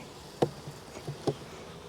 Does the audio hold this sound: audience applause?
no